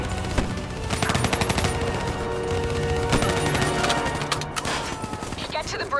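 Gunfire in Call of Duty: Black Ops III: rapid, dense bursts of automatic shots crackle continuously in a loud firefight, with scattered clatter and heavier reports layered over the mix.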